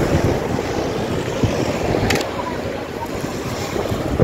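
Strong wind roars steadily across an open shore in Davao, with surf churning underneath in a continuous broadband rush.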